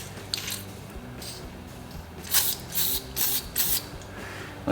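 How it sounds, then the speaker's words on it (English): An aerosol can of mass airflow sensor cleaner hisses in several short, close bursts onto the MAF sensor of a 1990 Nissan 300ZX Turbo, following a quieter stretch. "Get some mass airflow sensor cleaner and give it a little hose down in there."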